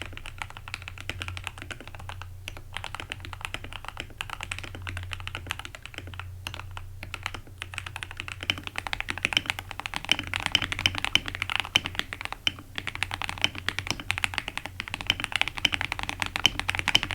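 Keyboard fitted with a lead tape mod being typed on, a fast continuous stream of crisp keystroke clicks that gets slightly busier and louder in the second half, with a low hum beneath and no talk.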